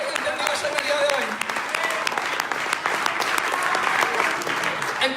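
Church congregation applauding during a sermon, a dense, steady wash of many hands clapping at moderate volume that fills the whole stretch without pause.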